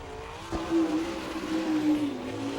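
Greg Wilson's number 63 Lucius Welding sprint car runs a qualifying lap at Attica, Ohio, in an All Star Circuit of Champions event. A steady, fairly loud engine drone rises and falls slightly as it carries through the whole stretch, with no voices.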